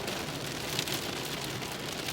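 Steady rain falls at night near a motor speedway during a thunderstorm, a constant dense hiss with no break.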